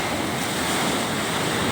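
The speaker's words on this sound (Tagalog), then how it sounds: "yung mga kampas ng alon" Big surfing waves crash on a beach, a loud, continuous wash of surf with wind noise and no voices.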